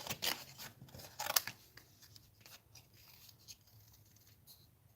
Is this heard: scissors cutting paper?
yes